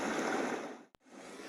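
A Sound+Sleep sleep sound machine plays its brook soundscape, a dense, steady hiss of running water that cuts out for a moment midway, then returns at the same level.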